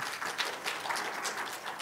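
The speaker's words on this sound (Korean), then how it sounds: "큰 박수로 환영해 주십시오" Audience applause welcoming a presenter at a KISA cybersecurity policy conference hall, a soft, distant, continuous patter of many hands, faint and steady without speech.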